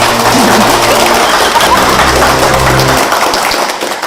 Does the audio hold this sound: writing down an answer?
no